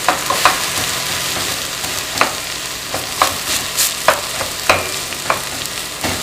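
Lean ground beef sizzles steadily in a hot pan for chili con carne, with a continuous fry hiss broken by sharp scraping clicks of a utensil stirring and breaking up the meat every second or so.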